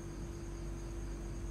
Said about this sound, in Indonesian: Hanya suara jangkrik dan angin yang terdengar.